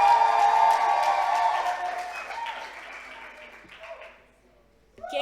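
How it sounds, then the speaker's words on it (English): Audience applause fills a conference hall at an HIV and adolescence session, loud at first and then thinning out and fading, before a voice begins speaking near the end. "Can we continue the round of applause as she makes it to stage, please?"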